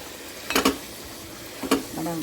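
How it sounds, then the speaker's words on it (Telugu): A metal lid is set onto a cooking pot of mutton curry with tomatoes, giving a few close, light metallic clinks as it is positioned, over a soft kitchen background hiss. "ఇప్పుడు మూత పెడదాం"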